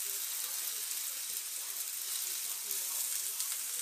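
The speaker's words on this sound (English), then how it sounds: "grab all these onions right here, put them in this pan, together with our garlic that we sliced up" Onions and sliced garlic sizzle in a pan in a steady, even hiss. The frying sound is moderately faint and continuous, with no sharp pops.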